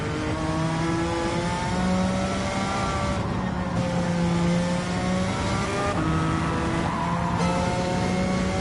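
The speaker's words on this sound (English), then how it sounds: "I'll just do a casual donut for you guys" A car in Gran Turismo 7 spins through a donut, its engine holding a steady high whine that rises and falls with revs over continuous tyre noise, loud and close throughout without a break.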